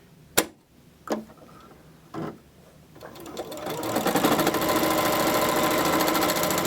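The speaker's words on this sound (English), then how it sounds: "So I'm going to head to my sewing machine and finish it up." A few sharp clicks and clunks, then a sewing machine starts up and runs steadily with a loud, continuous mechanical whir.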